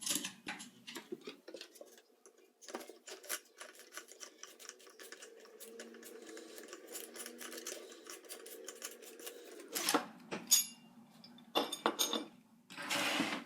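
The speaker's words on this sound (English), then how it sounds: "you're going to want to remove your buffer tube." A buffer tube is unscrewed and removed from an airsoft gun up close, giving quiet scraping, rubbing and small clicks with a few sharper handling taps near the end.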